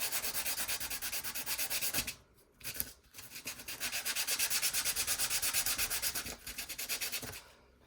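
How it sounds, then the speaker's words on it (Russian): A plastic figure has its back sanded with quick, even back-and-forth rasping strokes in a close, steady rhythm, broken by two short pauses, with no talking. "Поэтому все детали вот так аккуратненько, все, заднюю часть зачищаем."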